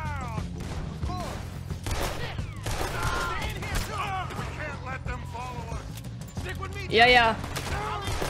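Gunfire from a gun in Red Dead Redemption 2, several sharp shots scattered over a busy game soundscape with music, and a louder burst near the end; someone speaks briefly over it.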